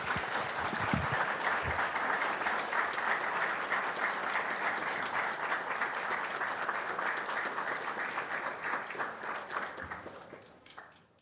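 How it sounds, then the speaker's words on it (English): Sustained round of audience applause at an Anderson County board meeting honoring a high school teacher, dense and even throughout before fading out at the end. "Let's give her a great big round of applause."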